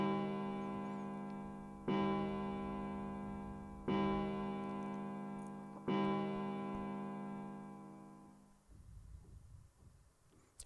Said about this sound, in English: Somewhere he heard a bell ring. It was the clock at the central staircase.